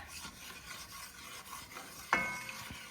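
A roux for gravy being stirred in a pot, giving a steady soft scraping and rubbing texture throughout, with a sharper clink of the utensil against the pot near the end.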